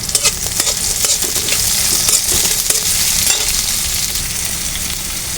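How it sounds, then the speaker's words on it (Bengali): Onion frying lightly in a little oil in a wok, with a loud close crackling sizzle running throughout and sharp stirring taps near the start. "দিয়ে দিব পেঁয়াজটা, তারপরে টমেটো দুটা, পেঁয়াজটা হালকা একটু বাজিয়ে দিব"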